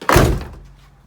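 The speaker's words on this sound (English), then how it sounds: "So when you close the door" A single solid thunk as the door of a Subaru WRX shuts close by, a short dull impact that fades quickly into quiet.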